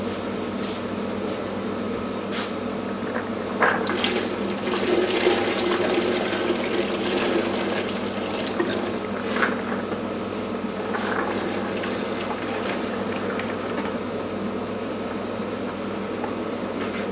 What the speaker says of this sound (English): I put just enough water in there to cover them.